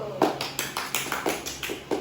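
Classmates applaud a student named Ayu during a primary science peer-teaching lesson, clapping together in a steady rhythmic beat of close, even bursts.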